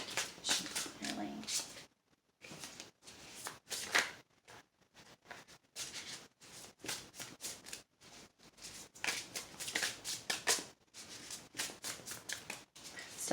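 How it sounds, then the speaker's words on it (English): Tarot cards are shuffled close up in repeated riffling bursts, with short pauses between bouts, and a soft voice is heard at moments between them. "Still getting used to shuffling these cards."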